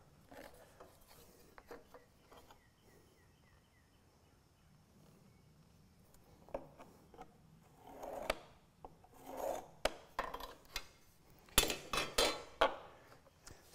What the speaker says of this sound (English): I'm just going to use my awl to do that.